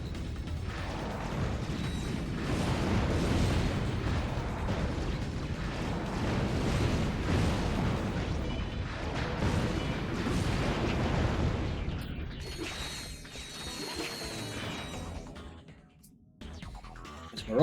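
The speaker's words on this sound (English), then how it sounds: "it's rocket launcher time." Heavy rocket launcher blasts and rumbling explosions in the action game Ratchet: Gladiator, repeated booms layered over mechanical clatter for most of the stretch, then thinning out into quieter, sparser effects near the end.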